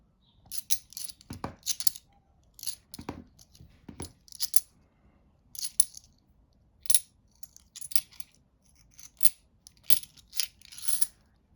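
£2 coins pour out of a bag in a dozen or so quick clinking bursts, metallic jingles and rattles spread across the clip with short pauses between, close and clear, with no talking.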